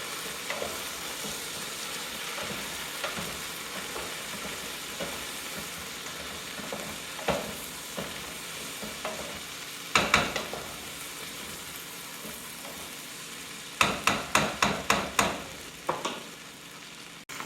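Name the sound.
stirring sizzling vegetables in turkey stew pan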